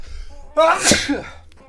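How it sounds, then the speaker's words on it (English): A single loud, close sneeze bursts out from a presenter reviewing Atari 2600 games, rising sharply to a peak and trailing off in about a second. "And there's a nice sneeze for you too."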